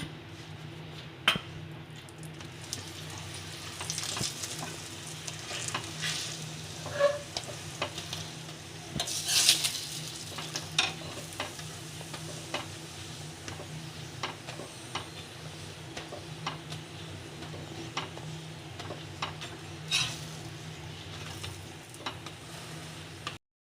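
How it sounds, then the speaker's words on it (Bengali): Parathas toasting on a hot tawa for egg chicken rolls, a soft steady sizzle with scattered light scraping and ticking taps throughout, fairly quiet and close with no talk. "মা একটা তাওয়ায় দিয়ে দিয়েছে ভালোভাবে সেঁকে নেবো আমরা পরোটাগুলো সেঁকে নিচ্ছি"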